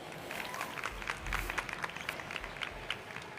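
Audience applause at a startup pitch stage event, a steady wash of many hands clapping at moderate distance, with some murmuring underneath.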